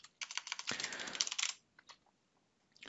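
Quick bursts of keystrokes on a computer keyboard as a welcome message for a LimeSurvey survey is typed, close and crisp, then a pause before a few more taps.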